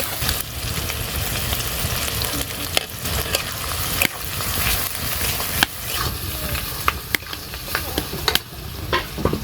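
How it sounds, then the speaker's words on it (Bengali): Onion, garlic, garam masala and cumin frying in hot oil in a pan for vegetable khichuri, a steady close sizzle broken by repeated scraping stirs and clinks of the spoon, with no talking. "ঝাল পেঁয়াজ আর রসুন কাটা দিয়ে দেব এবার গরম মশলা আর কিছু জিরা দিয়ে দেব"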